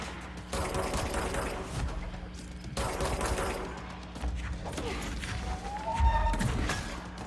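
Gunfire in the video game Control as an enemy is shot down, with repeated bursts of rapid shots and thuds under in-game ambience and a faint voice.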